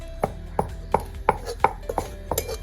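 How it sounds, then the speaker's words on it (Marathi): A knife chops raw masala into fine pieces on a board, giving about eight sharp, evenly spaced thuds close by, a little faster toward the end. "कच्चा मसाला टाकला मस्त बारीक बारीक तुकडे करून घेतले"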